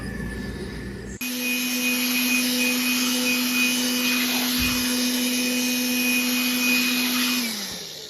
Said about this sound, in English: I'm going to remove any debris with the blower and the fingernail brush.